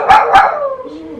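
Rocky the dog barks twice in quick succession, loud and close, followed by a brief whine.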